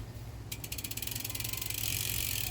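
A ratchet clicks rapidly while loosening the bolts on a road bicycle's Shimano Ultegra crank, a close, crisp run of pawl ticks that starts after a short quiet moment and speeds up toward the end.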